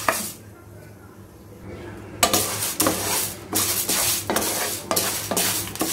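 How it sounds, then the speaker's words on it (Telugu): Lentils dry roasting in a pan with no oil, rattling and scraping as they are stirred in repeated rhythmic bursts close by, after a quieter opening moment. "ఇలా నార్మల్ గా డ్రై రోస్ట్ చేసుకుంటే అయిపోతుందండి"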